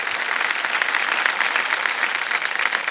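A studio audience on a television quiz show claps steadily and loudly, a dense wash of applause that does not stop, with no talking.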